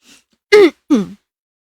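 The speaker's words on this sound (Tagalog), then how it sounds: "Kasi inuubo na ako." A person coughs and clears their throat during a live stream, a faint breath followed by two short, loud, close throaty bursts.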